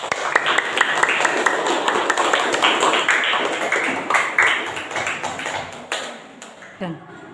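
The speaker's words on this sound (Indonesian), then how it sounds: "tepuk tangan untuk kelompok 3" Classroom applause for group 3 during a lesson, a dense spread of many hands clapping at moderate loudness with speech-like murmurs mixed in, tapering into scattered claps toward the end.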